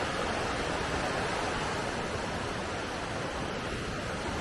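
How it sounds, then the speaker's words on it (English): Rushing river rapids along a mountain hiking trail form a steady, loud broadband roar of churning water, continuous and close with no pauses or voices. "It's a nice view of some rapids."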